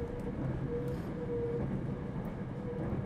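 A train in the visual novel game Kira Kira rolls along with a steady low rumble and a faint tonal hum, continuous and moderately close with no voices.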